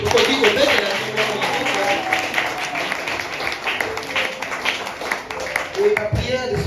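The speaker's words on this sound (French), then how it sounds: "Est-ce que vous pouvez acclamer pour vous?" A church congregation breaks into sustained applause and clapping during a service, a dense, steady patter of many hands filling the room for several seconds, with some voices mixed in.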